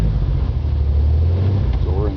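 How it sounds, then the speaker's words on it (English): A car engine idles at about 600 RPM with a low, steady rumble, close and fairly loud, with a brief voice near the end. "It's idling right around 600 RPM."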